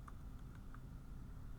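Light clicking of a computer keyboard as a math value is typed in, a few faint quick keystrokes over low room noise.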